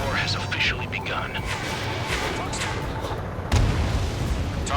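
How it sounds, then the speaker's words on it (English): Anti-aircraft guns firing in the combat flight game Ace Combat 7, a dense rumble of repeated booms and bursts that grows louder near the end, mixed with radio voices talking over the battle. "Fire the AA!"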